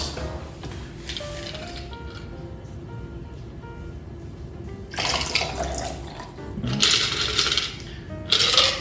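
A cocktail, a Reverse Manhattan, is strained into a pre-chilled coupe glass holding a cherry, heard as a running liquid pour that swells into louder splashing bursts near the end, close and without talk.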